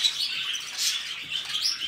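Pet birds chirping while a parent feeds its young, a steady wash of high, close twittering calls with a brief flutter of wings, no voices.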